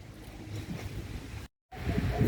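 Sea waves wash against a harbour pier on the Aegean coast of Turkey, where fishing boats are moored, giving a steady broadband rush of surf with wind. A brief dropout breaks it before the splashing resumes louder and closer.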